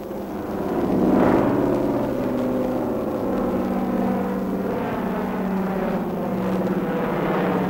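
Propeller-driven transport aircraft of the wartime era ferrying supplies to partisans in the forest, its engines droning steadily and loudly overhead, swelling early and holding a continuous throbbing roar throughout.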